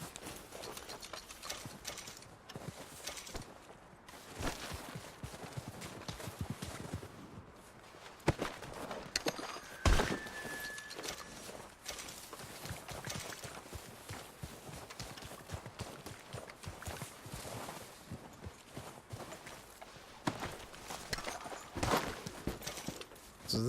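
Hooves clop along in an uneven walking rhythm, soft and close, with occasional clinks and thumps over a quiet background.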